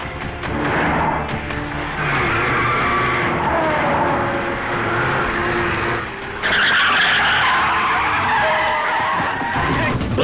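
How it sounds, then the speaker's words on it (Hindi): Tires skid and squeal loudly during a car chase in an action film, with a steady roar of engines and a sharp, brighter burst of skidding partway through, with no talk. "वो देखो उसकी गाड़ी, जरा देखो पीछे आ रहा है क्या?"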